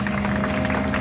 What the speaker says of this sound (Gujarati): જોરદાર તાળીઓથી વધાવી લ્યો